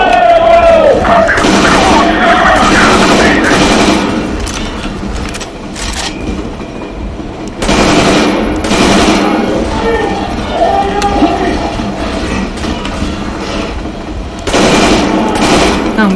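Sustained machine gun fire from Metro Exodus, loud and close, pounding in long rapid bursts with brief lulls between volleys, while a voice speaks intermittently underneath.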